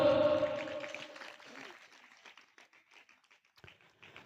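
Clapping from a congregation at a Telugu church service, loud and dense at the start and then thinning to scattered, fading claps.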